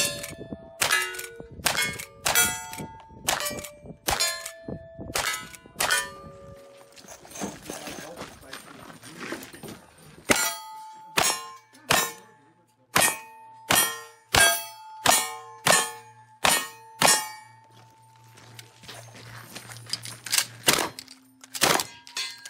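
Cowboy action shooting, a rapid series of sharp gunshots each followed by a ringing clang of steel targets, including a shotgun sweep across the targets, loud and close with brief pauses and some speech between strings.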